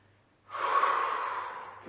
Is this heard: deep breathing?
yes